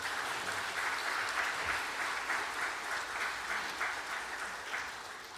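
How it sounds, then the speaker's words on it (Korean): A church congregation gives steady, even applause after a prayer at a Sunday service, with the clapping heard from a moderate distance and little else mixed in. "박수로."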